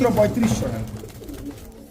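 Racer pigeons give low, soft coos close by, partly buried under a man's speech for about two seconds.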